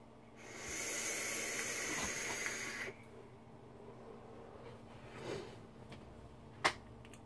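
A DotMod Petri RTA with a freshly wicked 0.25-ohm coil fired at 50 watts, its wide-open airflow giving a steady, loud hiss for about two and a half seconds. Quieter breathy sounds and a sharp click follow.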